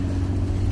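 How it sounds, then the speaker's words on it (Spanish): A 2023 SsangYong Rexton diesel SUV engine accelerating gives a steady low droning hum, close and continuous throughout, with no talk over it. "el motor sí se hace presente cuando estamos acelerando de forma"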